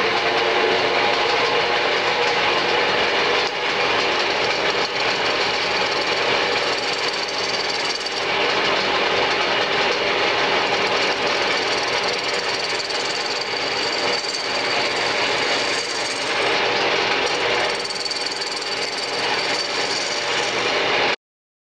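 A bowl gouge rough turns a wooden bowl on a lathe spinning at about 900 RPM. It makes a steady, loud, rough hissing and scraping cut that runs without a break for about twenty seconds, with no talk.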